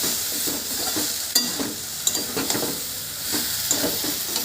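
A Bengali village-style curry is sautéed in a pan, giving a steady close sizzle broken by scraping stir strokes and a few sharp clinks of a spatula, with no voices.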